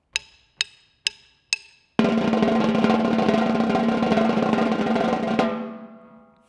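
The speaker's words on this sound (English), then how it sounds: "you're going to buzz on top of that, and you're going to keep the accents" Snare drum: four separate sharp hits, then a dense, continuous buzz roll with accents riding on top, loud and close, ending abruptly and ringing out.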